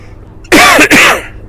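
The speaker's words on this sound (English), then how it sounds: "Sorry about the coughing." Two loud, harsh coughs in quick succession, close up, breaking an otherwise quiet moment.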